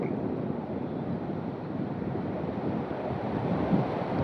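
Surf washing onto a beach on Java's south coast, a steady broadband roar of breaking waves mixed with wind buffeting the microphone, continuous and fairly loud throughout.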